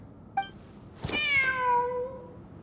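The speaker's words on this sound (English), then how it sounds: "Wait, there it is! The cat!" A cat in Genshin Impact gives a brief chirp, then one long, clear, drawn-out meow close by, with no talking around it.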